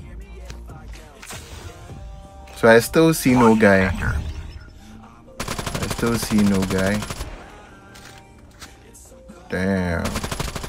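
Loud bursts of automatic rifle fire from Call of Duty Mobile battle royale, rapid repeated volleys separated by brief pauses, mixed with game music and voice-like tones.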